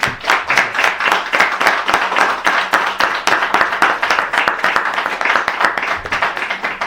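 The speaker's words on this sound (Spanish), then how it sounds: "un aplauso porque te lo mereces" An audience gives a speaker a round of applause, dense steady clapping close by, with no voices over it.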